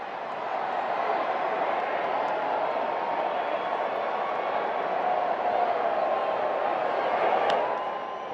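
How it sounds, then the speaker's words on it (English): A large crowd cheers and roars steadily at a Chicago White Sox home baseball game against the Cleveland Guardians on a Monday night, a broad sustained wash of voices and whoops with no pauses. "White Sox crowd getting into it tonight."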